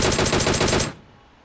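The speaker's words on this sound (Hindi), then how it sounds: "mister Kapil Rathore headshot with DP जा चुका है" A DP-28 light machine gun fires in PUBG Mobile on the Livik map, a loud close burst of about eight rapid rounds in under a second, then a short fading echo, with no talking.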